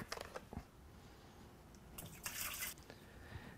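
Concrete stain is poured from a gallon container into a sprayer, giving soft drips and splashes and then a brief burst of liquid pouring, quiet and close, with no talk.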